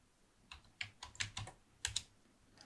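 Several keystrokes tapped on a computer keyboard while entering a terminal command, a short irregular burst of crisp clicks, close and fairly quiet, with no talking.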